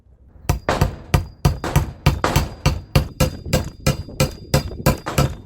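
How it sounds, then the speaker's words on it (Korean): A hammer drives a stick into a hardened giant homemade lollipop with about sixteen sharp, close, hard knocks in a steady rhythm. "근데 망치를 박는데도 이렇게 힘들어"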